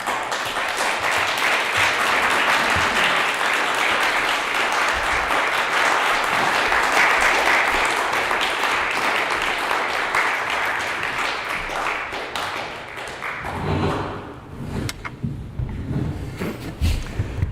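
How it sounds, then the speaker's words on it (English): A writers festival audience gives a sustained round of applause, dense steady clapping filling the room and thinning out toward the end. "Can we have a big round of applause for Liz, Billie, Brecken, and Bardia?"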